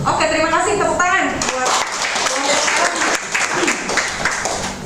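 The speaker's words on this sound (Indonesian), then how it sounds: "Oke, terima kasih, tepuk tangan" An audience claps at a medical lecture on uncomplicated malaria. A voice speaks briefly at the start, then steady, dense applause fills the room at close range.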